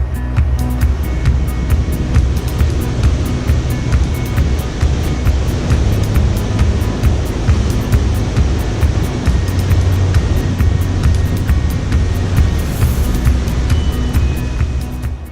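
Continuous roar of ocean surf breaking on the shore at Mile Rock Beach, Land's End, San Francisco, loud and close, with wind buffeting the microphone and no voices.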